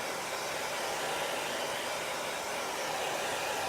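Hair dryer blowing continuously on a chalk transfer, a steady close whooshing roar with no breaks and no speech.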